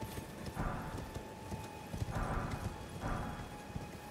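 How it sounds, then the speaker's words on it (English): Horse hooves clip-clop in the video game Elden Ring, coming in short bursts of steady rhythmic steps at moderate volume over a low ambient background. "I'm gonna get off the horse for this."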